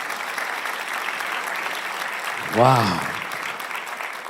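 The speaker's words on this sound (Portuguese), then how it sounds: "Você pode dar uma forte salva de palmas para Jesus?" Congregation at a Baptist church prayer meeting gives Jesus steady applause throughout, with a single voice exclaiming over it midway.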